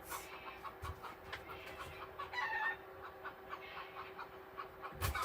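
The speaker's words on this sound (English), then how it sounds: "There's a rooster running in the side yard on the other side of the fence, and a chicken that is up on the fence right by the trailer" A rooster and a chicken in a side yard by a trailer give close, repeated clucks and a crow, scattered bursts over a quiet background.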